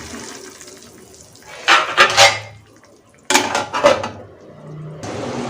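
A metal lid clatters onto a cooking pot of soya chunk curry simmering on a medium flame, two clanking bursts a second apart over a soft background hiss.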